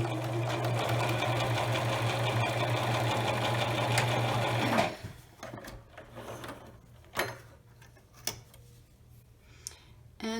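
A sewing machine stitches the side of an eyeglasses pouch with a steady, close mechanical whir. It stops abruptly partway through, and a few faint ticks and clicks of handling follow.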